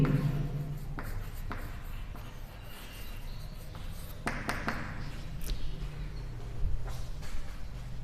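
Chalk or pen writing on a board during a maths lecture on integrals, with close scratchy strokes and taps in irregular bursts over quiet room tone.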